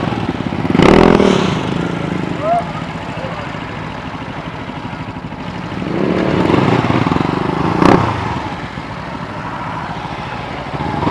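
A motorcycle ridden along a road near the beach at Barra do Cauipe, its engine droning steadily with two louder swells as it passes and accelerates, close and continuous.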